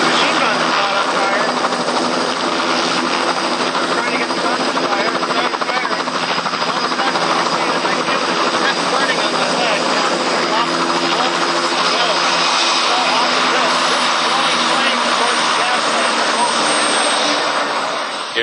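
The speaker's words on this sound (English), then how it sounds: "in a demonstration flight of this German Fokker triplane" A loud, steady propeller engine drone from a German Fokker triplane in a demonstration flight, droning without pause, with faint speech mixed underneath.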